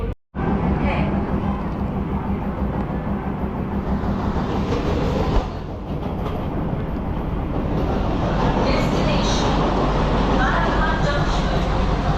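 An air-conditioned local train on the Sealdah to Ranaghat line pulling out of Dum Dum station, its steady loud rolling rumble and carriage rattle building as it gathers speed, with voices heard over the noise.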